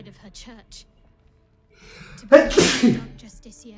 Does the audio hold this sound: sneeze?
yes